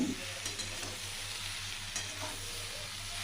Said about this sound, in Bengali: তো আমি সয়াবিনগুলো দিয়ে দিলাম।